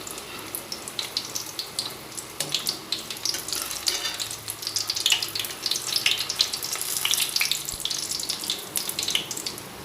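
Onion samosas deep frying in hot oil, a dense, steady crackle and sizzle that carries on without a break at close range, with no voices.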